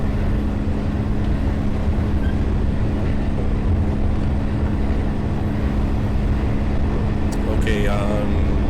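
A Kiha 85 diesel train climbs uphill in a train simulator, its engine a steady low drone and rumble with a brief higher whine near the end, heard alongside talking.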